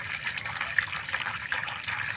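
Water runs out of opened household faucets in a steady, gushing trickle at close range, with slight surges in flow and no voices.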